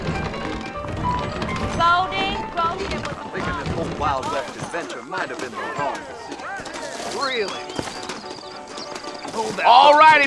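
Horse hooves clip-clop in Red Dead Redemption on Nintendo Switch, a rhythmic trotting that is largely masked by character dialogue and game sounds.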